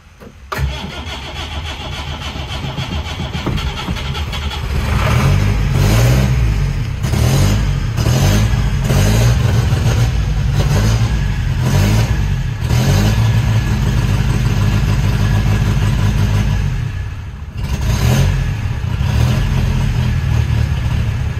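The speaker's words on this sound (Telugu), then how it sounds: "సో చూసారు కదా వెహికల్ అయితే స్టార్ట్ అయిపోయింది ఈజీగానే" An old Hindustan Ambassador car engine cranks and catches, then settles into a steady, loud, rumbling idle close by for about twenty seconds, with a brief dip near the end.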